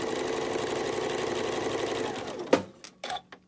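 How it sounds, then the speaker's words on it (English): A sewing machine stitches quilt block pieces in a fast, even whirring run lasting a few seconds, close and clear. It then stops, leaving a few brief clicks and knocks. "we're going to sew from that 90-degree angle, corner."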